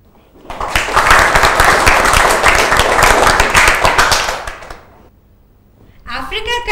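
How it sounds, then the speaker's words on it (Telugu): A classroom of students claps for a student team after their social studies project and model on Africa, a loud sustained burst of applause lasting about four seconds before fading, followed by a voice speaking. "మరి మనం ఒకసారి ఈ టీంను చప్పట్లతో అభినందిద్దాం."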